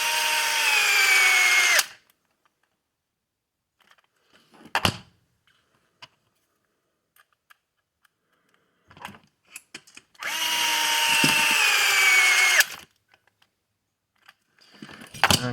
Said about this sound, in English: So I'll go ahead and bolt this bumper on.